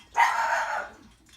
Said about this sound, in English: That's our dog Nikos. He must see a squirrel out the window.